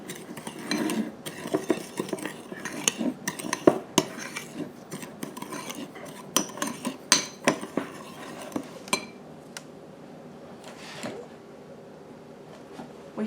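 A utensil stirs sugar into a Korean cucumber pickle dressing in a bowl, giving irregular scraping and clinking strokes of metal against dish, close and fairly quiet, with the stirring easing off near the end.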